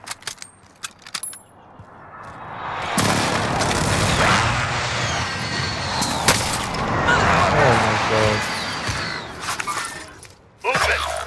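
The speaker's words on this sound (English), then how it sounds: "Be advised, friendly precision airstrike inbound." Precision airstrike explosions in Call of Duty Warzone, a dense run of loud blasts, shattering debris and crackling impacts lasting several seconds, with game voice lines spoken over the barrage.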